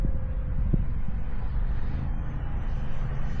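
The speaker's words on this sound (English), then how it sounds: "It's windy though, guys." Wind blows steadily outdoors while a model aircraft is trimmed in flight, a constant broadband rush with low rumble buffeting the microphone throughout, fairly loud and unbroken.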